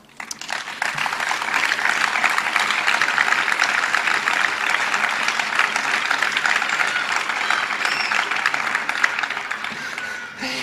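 Crowd applause at a political rally about an independence referendum in Vila-Seca, rising quickly and holding as a steady, dense wash of clapping for about ten seconds before easing off at the end.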